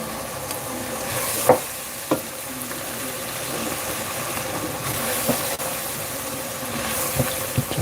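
Flour stirred into a pan of toasted spices, melted butter and fat on a home stove, giving a steady soft sizzle with a few sharp spoon scrapes and taps against the pan.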